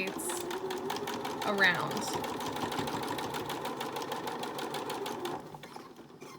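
A sewing machine stitches a homemade fabric face mask, a steady fast mechanical whir running close and loud for most of the clip before stopping near the end, with a voice talking over it.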